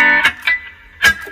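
Reggae electric guitar through a wah pedal, effect mix at 100 percent, playing three short, thin, nasal chord stabs with sustained ringing between them, up close and with no voice over it.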